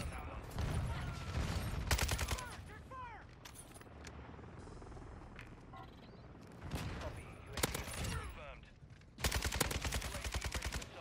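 Bursts of RPK machine gun fire in Call of Duty Warzone, several rapid automatic volleys separated by quieter gaps of game ambience and distant shots, loud and close, with someone talking between bursts.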